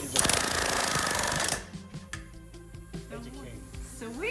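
Rapid, loud hammering on a school bus during window removal in a conversion project, a dense burst of impacts for about a second and a half, then scattered clanks with voices talking over them.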